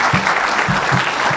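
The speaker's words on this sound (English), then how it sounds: "Can we give a round of applause to our panel?" An audience applauds a panel session at a pavement preservation meeting in St. Louis, a dense, steady burst of clapping from a roomful of people, loud and sustained for the whole moment.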